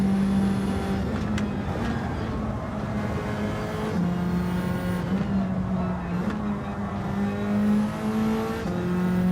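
Racing engines roar continuously in Gran Turismo 7 lobby racing with V8 cars, steady loud revving drone with shifting pitch as cars accelerate, alone without talk.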